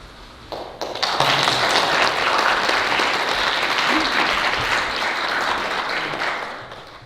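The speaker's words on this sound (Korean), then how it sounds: "우리 목사님 나오실 때에 큰 박수로." A Korean Baptist church congregation in Tampa, Florida, breaks into loud applause as the pastor comes forward, a few scattered claps swelling quickly into a full, sustained wash of clapping.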